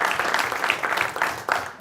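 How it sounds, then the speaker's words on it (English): A room of attendees at a city council candidate forum applauds, a brief, dense burst of clapping at even loudness that cuts off near the end. "Let's give them a round of applause."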